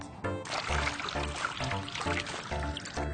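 Plain water is poured onto a green tea bag, a steady liquid pour with trickling and splashing that runs continuously, fairly close and alone.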